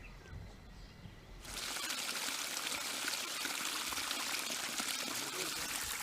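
Clean cold water from a solar-pumped forest reservoir in Barnawapara wildlife sanctuary starts pouring after a quiet moment, then flows in a steady, close splashing stream to the end.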